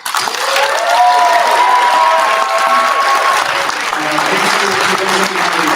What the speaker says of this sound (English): Please give me a big hand clap.